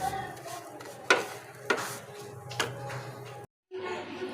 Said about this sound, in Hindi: हल्की आंच पे हम इसे रोस्ट करेंगे सेवइयों को